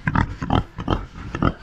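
Free-range pasture pigs grunting and oinking in a rapid, uneven series of snorty calls, close and fairly loud, with no talking.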